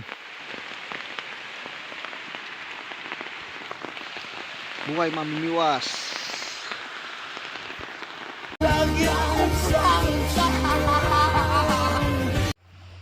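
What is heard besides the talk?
rain falling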